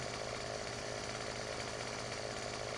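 A video game chainsaw from Farming Simulator 17 drones steadily as it cuts into a tree, a continuous buzzing engine whine holding at an even, moderately quiet level with no break.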